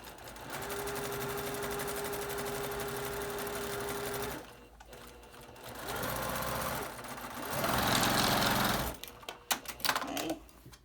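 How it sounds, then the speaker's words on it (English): Sewing a fabric face cover with a filter pocket, a machine runs in long steady bursts with short pauses, the motor's pitch shifting slightly between runs before handling clatter. "now I'm going to sew 1/4 of an inch from that same seam line on the other side"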